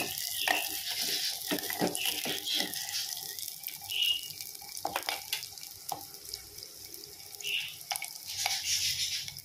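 Vegetables with capsicum stir-fried for matka noodles, giving a faint steady hiss with scattered clinks and scrapes of stirring, close but quiet, with no talking.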